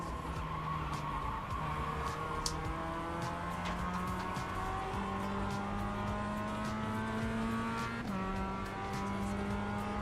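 Race cars in the iRacing video game, engine whines climbing and shifting in stepped pitch jumps with a faint tire-squeal texture, steady and continuous, no talk.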